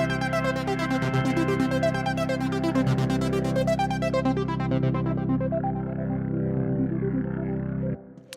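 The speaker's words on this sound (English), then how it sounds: "So you can hear the organ, you can hear a little bit of that arp underneath" A sustained organ chord with a synth arpeggiator pulsing rapidly underneath while the mod wheel sweeps the filter, bright and steady, then cutting off near the end.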